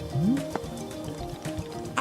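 Tea trickles into a cup in the game Wanderstop, a short close pour with a rising liquid tone, light drips and a soft clink near the end.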